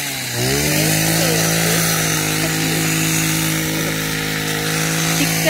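A chainsaw-type power tool runs at steady high revs while trimming large garden pine trees at a rural home, starting up sharply and then droning continuously and loudly close by with small shifts in pitch.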